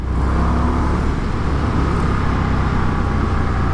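An Indian FTR 1200 S Race Replica motorcycle accelerating in sport mode, heard as a steady, loud, close engine roar with dense low rumble and wind noise throughout.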